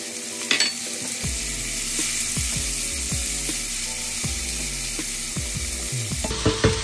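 Ginger and tomatoes fry in a hot pan with a loud, continuous sizzle, while a steady rhythmic stirring scrape repeats close by throughout.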